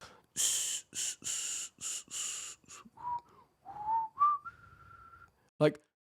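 A person's voice imitates a shaman whistling into bottles of ayahuasca: a run of breathy, airy blows, then several thin rising and wavering whistled tones, and a final short sharp whistle.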